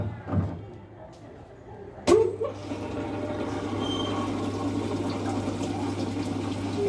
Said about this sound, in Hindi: और पानी लेने की